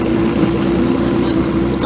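Steady, loud engine drone from an Ariel Atom sports car driving in a supercar parade, a continuous close idle-like rumble with no talk over it.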